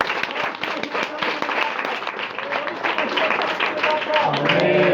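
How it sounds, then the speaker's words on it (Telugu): A church congregation clapping together, dense steady applause filling the hall, with a preacher's voice over it. "చప్పట్లు కొట్టండి."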